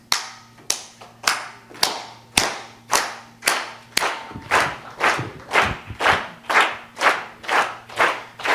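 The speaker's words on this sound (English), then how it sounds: "I'm gonna need everybody to do a steady clap like this" A standing audience claps in a steady unison rhythm, about fourteen loud, evenly spaced claps, slightly quickening toward the end, with no talk over them.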